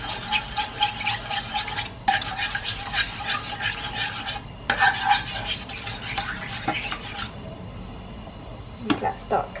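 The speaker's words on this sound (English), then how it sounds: "now I'm just going to whisk them up a little bit" Eggs whisked in a pan on a stovetop while making breakfast, a quick steady scraping and stirring rhythm close up, with faint sizzling and a voice speaking over much of it.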